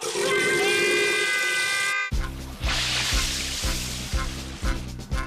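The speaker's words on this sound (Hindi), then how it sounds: "मुझे लगता है हम किसी नाली में आ गए हैं नोबिता। ये गंदा पानी कहाँ जाता है?" Dirty water rushing and trickling through a drain in an animated cartoon, a steady close wash of flowing water with some gurgling. After a tonal sound at the start, the water runs under a dense, rhythmic background.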